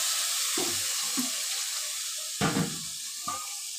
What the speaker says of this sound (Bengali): সেই মশলাটা একটুখানি জল দিয়ে তারপরে আমি তেলের মধ্যে ঢেলে দিচ্ছি